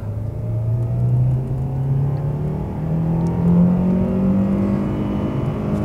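A Lada Vesta with a 1.6 engine and automated manual gearbox, shifted by hand in manual mode, accelerates with a steady engine drone that climbs smoothly in pitch, close and continuous, with no talk over it.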